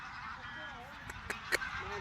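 Migratory birds at Thol lake bird sanctuary giving a few honking calls from some distance over a steady outdoor hum, with faint voices in the background.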